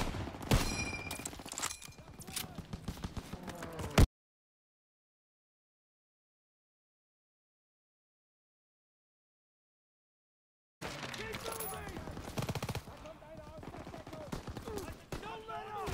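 Dense machine gun fire and shouting soldiers in a Call of Duty: WW2 campaign battle, loud and continuous, broken by a long stretch of total silence before the gunfire and yelling resume.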